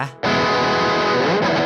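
Electric guitar, a vintage-style relic strat type, played through a drive distortion on the rear pickup: a loud sustained overdriven chord rings out after a brief opening note, holding thick and buzzy to the end.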